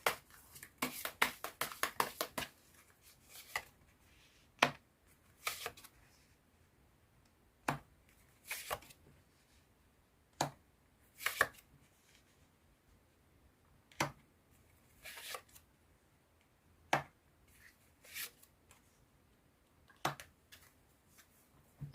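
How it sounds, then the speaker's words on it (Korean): Message cards for a fortune reading are shuffled and drawn by hand, giving quiet, close papery flicks and taps in short irregular bursts separated by near silence. "수호신의 2022년 3월 메시지 카드부터 뽑아보도록 할게요"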